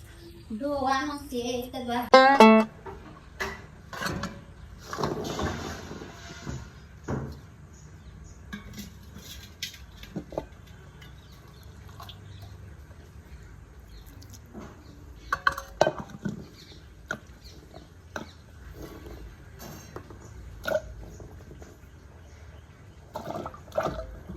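Water chestnuts (singoda) are washed in hot water, with water running and splashing and occasional clinks of utensils. A person talks intermittently over the steady wash.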